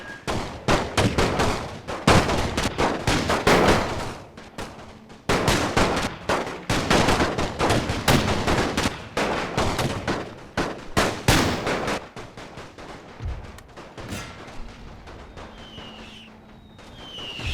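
Battlefield gunfire in the World War I game The Great War 6.0, Austro-Hungarian side: dense, overlapping rifle and machine-gun shots crackle for most of the stretch, then thin out to scattered, quieter shots near the end.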